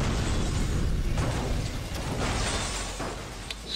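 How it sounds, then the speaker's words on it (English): A video game fills the scene with dense, loud explosions: rumbling booms and sharp pops crowd over one another in a continuous barrage, mixed with clattering mechanical effects. "So many explosions."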